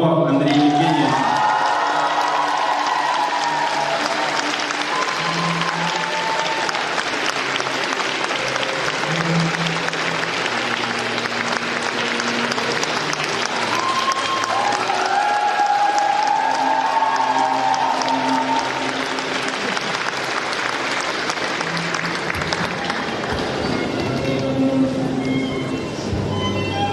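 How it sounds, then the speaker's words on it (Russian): A large audience gives sustained applause at an awards ceremony, with scattered cheers and whoops rising over the dense, continuous clapping for nearly half a minute. "Еще раз аплодисменты."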